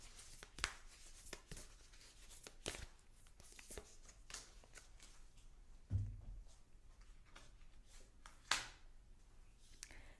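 Tarot cards being shuffled and drawn for a reading, with soft papery riffles and sharp card snaps at irregular intervals, close and fairly quiet with no talking.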